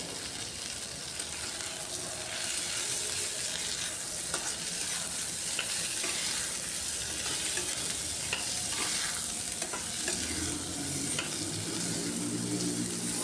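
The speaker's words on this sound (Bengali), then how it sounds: "টমেটোটা দিয়েও আরও কিছুক্ষণ ভাজবো।" Chopped tomatoes fry with chicken, cauliflower and masala spices in a pan, giving a steady, close sizzle with continuous scraping stir strokes throughout and no talking.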